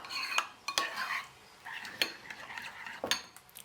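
A spoon stirs herbal salt into a wild garlic dip in a bowl, giving close scraping and clinking strokes with several sharp taps against the side, and no voices.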